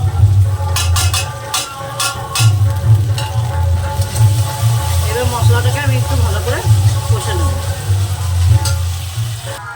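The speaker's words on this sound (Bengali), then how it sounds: "টমেটোটা হালকা কষে নিয়েছি এবার দিয়ে দিলাম এখানে একটু আদা রসুন আর জিরে বাটা" Chopped tomato with ginger, garlic and cumin paste frying in a pan, a steady close sizzle with scattered clinks and scrapes of stirring, a low hum running throughout.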